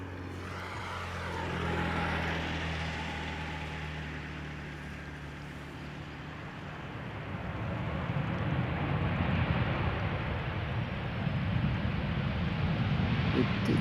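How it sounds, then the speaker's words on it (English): A Boeing 737 lands at Schiphol: a steady jet engine roar, then a louder rumbling surge of thrust reversers building and holding through the second half, heard close and alone. "It did use the reversers there just a little bit."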